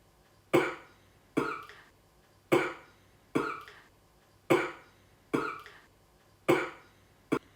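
Seven harsh, chesty coughs from a person with a persistent cough and lung pain they link to polluted air. The coughs are close and loud, evenly spaced about a second apart, each fading quickly, with no talking in between.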